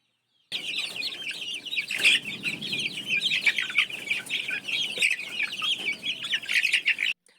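A hen clucking in a battery cage, repeated close clucks and short squawking calls in an irregular run, fairly loud, with a faint background murmur.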